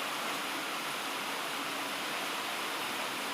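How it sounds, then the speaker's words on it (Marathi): Heavy rain falling outside over ploughed farm fields where water has pooled, a steady, even hiss of downpour with no breaks and no voices. "तुम्हाला दाखवतो मी पाऊस इतका पडायला लागला आहे"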